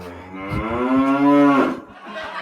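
A single loud, close cow moo sound effect, a long rising-and-falling low bellow lasting over a second with a brief thump before it.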